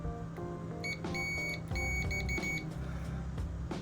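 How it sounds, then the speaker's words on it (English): Several short electronic beeps from a multimeter continuity test at steady pitches, some in quick bursts, over a low constant hum. "If it does, it makes a beep."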